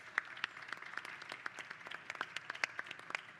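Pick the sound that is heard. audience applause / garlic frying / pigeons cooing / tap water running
audience applause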